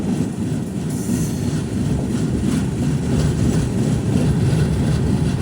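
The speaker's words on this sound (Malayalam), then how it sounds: "ട്രെയിൻ ഇപ്പോൾ ഒറ്റപ്പാലം റെയിൽവേ സ്റ്റേഷനിൽ എത്തിയിരിക്കുകയാണ്." The Rapti Sagar Express arrives at Ottapalam railway station, a steady low rumble and rattle of the moving coaches heard from on board, continuous and fairly loud without voices.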